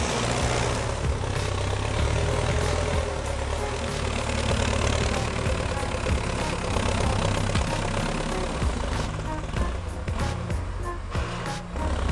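Heavy diesel engines of a Case IH Steiger 550 Quadtrack and a New Holland T9.645 tractor rumble continuously in a muddy field, a dense, loud, steady roar with no pauses.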